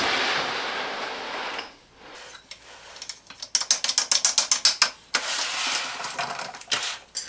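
Ratchet wrench tightening large nuts on a Gude MSKT 760 folding welding table, heard as a rapid run of loud, close metallic clicks in repeated bursts, preceded by softer handling noise and rustling.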